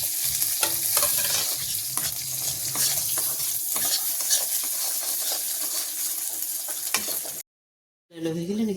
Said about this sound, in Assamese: এতিয়া ভাজি লোৱা চুজিখিনি মই ইয়াত মিলাই দিম।